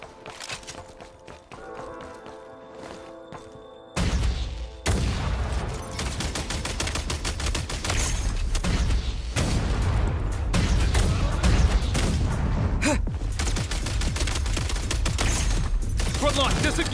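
Gunfire from a gun in a video game: after a quieter opening, dense rapid bursts of shots run almost continuously over a loud game soundscape.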